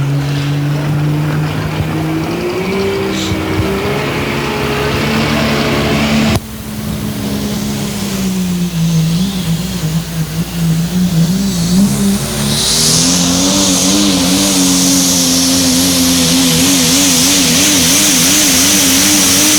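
Diesel pulling truck at a truck and tractor pull, its engine roaring loud and continuous nearby with rising and falling revs, a brief dip partway through, then a surge and high whine toward the end; no speech.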